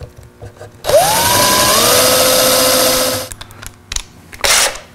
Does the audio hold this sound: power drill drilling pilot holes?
yes